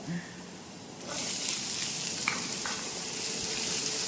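Onions drop into hot oil with garlic in a pan for egg masala; after a quiet first second, a loud, steady sizzle bursts up and holds close-up to the end.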